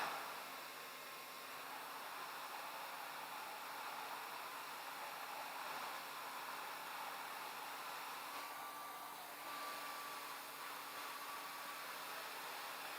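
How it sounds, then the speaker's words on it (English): A hair dryer blows hot air in a steady, even hiss that stays constant and moderately quiet throughout, with no voices. "I am testing whether this hair dryer produces air above 67 degrees"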